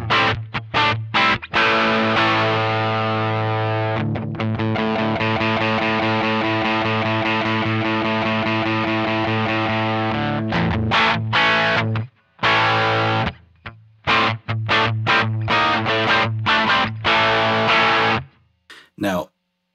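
Distorted electric guitar through a MayFly Audio Sunrise amp simulator pedal plays chugging chords and sustained notes with a thick, overdriven tone, broken by short stops and sharp chopped stabs.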